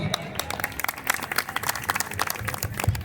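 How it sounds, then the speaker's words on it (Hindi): Audience clapping at a school comedy poetry event (hasya kavi sammelan) staged by class 9 and 10 students, an uneven burst of hands with crowd noise and some voices mixed in. "आप यूं ही तालियों से हौसलों को हवा देते रहिए। आपकी तालियां इस महफिल की जान बन जाएगी।"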